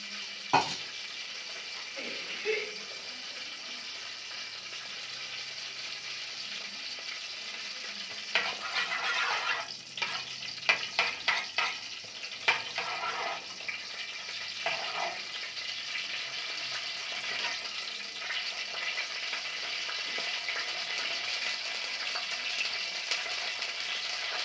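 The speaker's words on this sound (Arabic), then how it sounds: "هيسخنوا جامد كده يا حبايبي وننزل بالشعريه بتاعتنا" Vermicelli fries in a hot pan with a steady sizzle throughout, broken by a run of sharp clicks and scraping taps from stirring in the pan near the middle.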